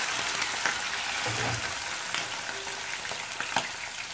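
Chicken livers frying in hot oil in a pan over a strong gas flame, a steady close sizzle and crackle with faint stirring knocks, no talking.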